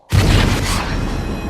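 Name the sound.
explosion sound effect in a film trailer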